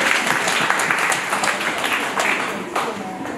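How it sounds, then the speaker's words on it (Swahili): Audience applause at a public event honouring a book author in Itigi, Singida, dense steady clapping from many hands filling the room for the whole stretch, with a faint voice underneath. "Tupige makofi."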